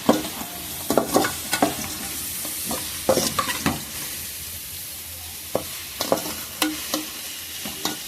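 Food frying in a pan is stirred, with repeated scraping knocks of the utensil over a steady sizzle, up close and with no talking.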